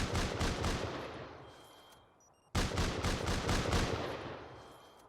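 An automatic turret in the Rust video game fires two long rapid bursts of gunfire, loud and close, the first trailing off before a sharp second burst starts abruptly midway and rolls on.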